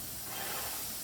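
A disinfectant sprayer hisses steadily inside a vehicle during COVID-19 decontamination, a continuous broadband spray held at even loudness throughout.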